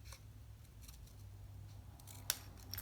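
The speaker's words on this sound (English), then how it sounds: "you could come in with your snips and you can just literally cut right above" Paper for a Stampin' Up! birthday card is cut with hand snips, giving a single sharp close snip amid quiet room tone, with faint rustling around it.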